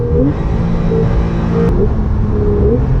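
A Porsche 911 GTS with a PDK gearbox drives on a German road, its engine a loud, steady rumble from inside the cabin, with rising pitch sweeps and quick shifts between gears.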